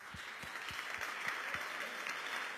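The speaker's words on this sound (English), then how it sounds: "So give a big applause to Peter Warner." Steady applause from an audience filling the whole stretch with dense, even clapping at a constant moderate level, with no voices standing out.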